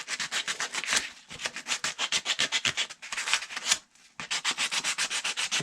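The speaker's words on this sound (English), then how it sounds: "So I'm going to take some sandpaper." Sandpaper rubbed back and forth along the edges of a simple wooden ball starter, close and steady strokes in quick rhythmic bursts with a couple of brief pauses.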